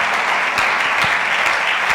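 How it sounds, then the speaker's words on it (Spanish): A church congregation applauds together during a worship service, a steady, dense wash of clapping hands that fills the room without pause. "Aplauda la gloria de Dios"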